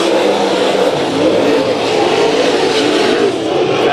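Dense, loud roar of IMCA modified race cars racing at Bakersfield Speedway, engines blending into a continuous revving wash with no pauses.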